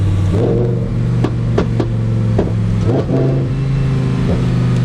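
A warmed-up car engine, switched into strata mode, idles loudly up close and rises in several short revving bursts with a low mechanical drone underneath.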